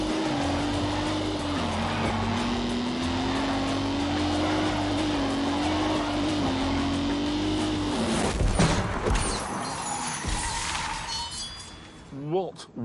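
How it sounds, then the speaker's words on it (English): Heavy vibration inside a car while driving, a steady low droning rumble under an excited voice, followed by a sharp rattling clatter near the end. "Whole car's vibrating. Yeah, that's a massive vibration."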